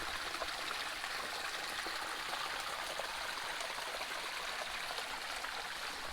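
A small brook, absent from the map, flows steadily on its own, a constant close babble and trickle of water with no voices.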